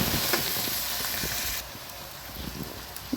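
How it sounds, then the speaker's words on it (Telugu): Onions frying with mint and coriander in a pan for a chicken fry curry, a loud steady sizzle that drops slightly partway through, with faint stirring clinks. "ఇప్పుడు ఈ ఆనియన్స్లో పుదీనా, కొత్తిమీర వేసుకొని బాగా ఫ్రై చేసుకోవాలి."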